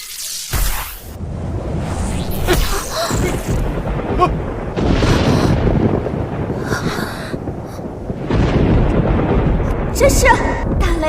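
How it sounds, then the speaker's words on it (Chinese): Heavy thunder cracks and rumbles in loud bursts, several booming strikes with whooshing wind between them, close and dramatic. "这是打雷了吗？"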